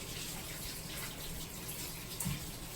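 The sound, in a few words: water running from tap, rinsing hands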